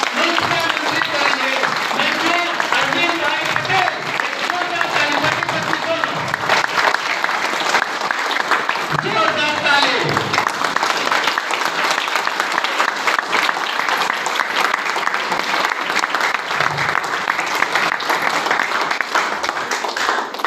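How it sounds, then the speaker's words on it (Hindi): Loud applause from an audience at a company gathering, continuous clapping that runs the whole length, with voices calling out over it at times. "हम चाहेंगे एक जोरदार ताली के साथ"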